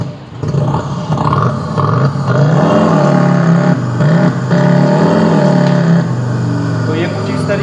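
Simulated engine sound played from the speakers of a Komaki Ranger electric cruiser motorcycle, a synthetic revving rumble that rises and falls in several swells, fairly loud and close with someone talking over it.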